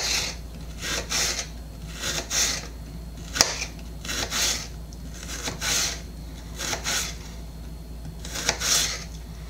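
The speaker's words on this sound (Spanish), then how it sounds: "Ahora vamos a cortar la cebolla" A knife slices an onion into julienne strips on a cutting board. Steady, evenly spaced crisp strokes repeat close by, about one or two each second, with no talk.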